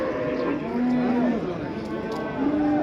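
At the Qo'shtepa cattle market, a cow lets out a long, loud low moo, then a second moo begins near the end; faint background noise beneath.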